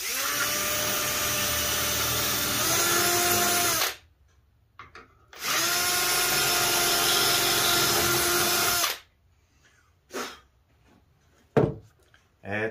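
A power drill bores into wood while building a shaker-style dresser, two loud sustained whirring runs of about four seconds each, separated by a pause, followed by short clunks and knocks.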